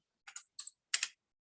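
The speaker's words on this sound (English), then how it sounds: "Let me type down the stats here." A few quick, soft keystrokes tap on a computer keyboard, arriving as three short clustered bursts in an otherwise quiet room.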